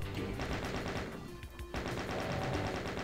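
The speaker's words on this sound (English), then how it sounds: "I can safely shoot them out from underneath" Rapid gunfire from the Doom video game, with dense overlapping shots blasting at monsters over a loud, busy game soundtrack, briefly thinning in the middle before resuming.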